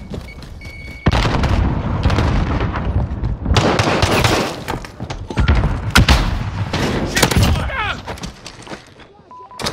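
Call of Duty Modern Warfare multiplayer on PS4 Pro, with loud booming thuds and bursts of gunfire in a close, chaotic firefight, one heavy blast standing out among repeated shots, with voices talking in between.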